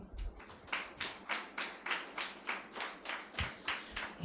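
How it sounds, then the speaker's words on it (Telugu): Guests at a Christian church wedding ceremony clap about twelve times in slow, even unison, each clap sharp and close, alone without talk over the clapping. "అభ్యంతరం లేదు అని చెప్పాను. చప్పట్లు కొట్టు."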